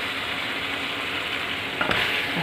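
Chicken sizzling in hot oil in a pan for sinigang na manok, a steady close crackle with a brief stir or clatter near the end.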